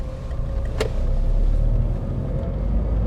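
Steady car engine rumble and road noise from inside a vehicle turning through an intersection on a driving lesson, constant and close, with one brief click near the start.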